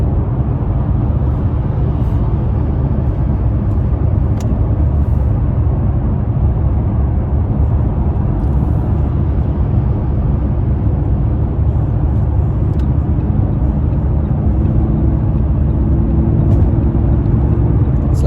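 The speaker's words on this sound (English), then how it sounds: "The V10 is very raspy." Inside an Audi S8 with a Lamborghini-derived V10 engine while driving, a steady low engine and road drone rumbles on without a break, loud and even throughout.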